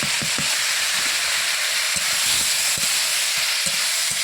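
Pineapple pieces fry in a pan of hot oil with dried red chillies, mustard seeds, cinnamon and cardamom for a chutney, giving a steady, close, even sizzle with soft stirring knocks and no talking.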